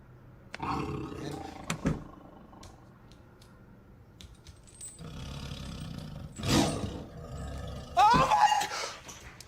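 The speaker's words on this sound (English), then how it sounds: "That's a tiger." A tiger gives several deep, rough roars spaced a few seconds apart, loud and close, with quieter rustling in between.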